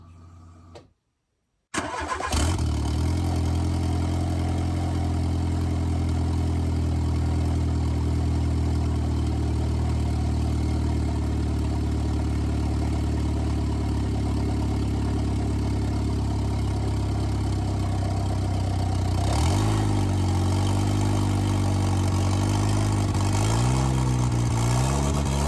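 A Renault Clio turbo engine cranks and fires on its first start, then settles into a steady, loud idle with a droning hum and rising and falling pitch later on as it revs slightly.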